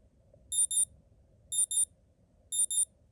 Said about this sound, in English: Listen to the alarm,